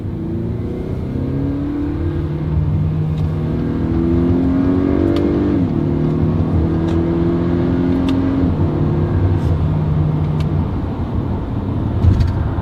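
A car engine revs and drops in pitch as it downshifts through several gears in manual sport mode, steady and close, with rising and falling tones and no talk.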